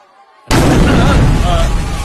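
A Diwali firecracker bursts with a sudden loud blast after a short quiet lead-in, then a dense crackling roar of exploding and sizzling continues unbroken to the end.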